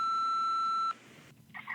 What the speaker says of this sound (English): here is the beep I was talking about